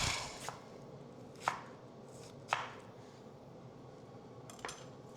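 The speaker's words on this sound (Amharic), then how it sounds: "እሱን ከተፍ ከተፍ አድርገን እንከተዋለን።" Knife strikes a cutting board while chopping ingredients for falafel, four sharp isolated chops spaced about a second apart over a low steady background hum, no talking.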